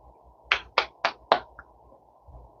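Four sharp, close hand claps land in a slightly uneven rhythm, each one crisp and loud against a quiet room, and a softer fifth tap follows after them.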